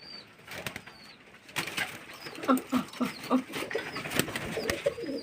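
Pigeons sitting out in full sunshine give a run of soft, low coos, about five or six close repeated calls in the middle, over quiet outdoor background with faint rustles and a few wing or perch noises.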